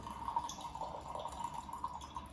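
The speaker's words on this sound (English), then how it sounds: "Enough water to warm up the Gaiwan and awake the leaves." Hot water pours into a gaiwan to rinse and wake gaoshan oolong tea leaves, a faint steady trickling stream with light splashy drips, heard alone without talking.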